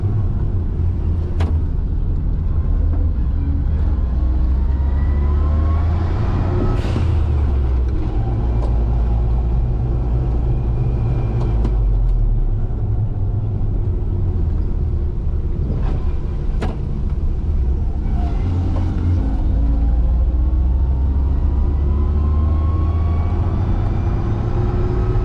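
Heard from inside the cabin, a 1990 Suzuki Jimny drives along with its engine running continuously, a steady close rumble of motor and road noise that rises and falls with gear changes.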